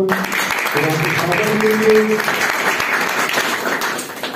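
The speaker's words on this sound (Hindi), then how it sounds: "बहुत सारी तालियां" A congregation at a Fazal Memorial Church prayer meeting applauds steadily, a dense wash of clapping running the whole stretch with voices and tonal sounds mixed in beneath it.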